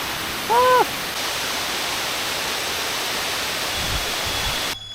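Constant broad rushing of falling water, steady and fairly loud, with a brief whistle-like tone near the start and no speech.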